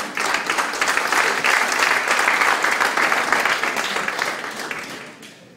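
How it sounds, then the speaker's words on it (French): Spontaneous applause from a conference audience greets the mayor at the opening of the proceedings, a dense, loud wash of clapping that holds steady for several seconds before slowly tapering. "ouvrir nos travaux sous un tonnerre d'applaudissements spontanés"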